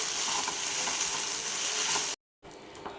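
Boiled tapioca (kappa) is stirred in a hot pan, giving a steady close sizzle and scraping that cuts off abruptly for a moment before resuming.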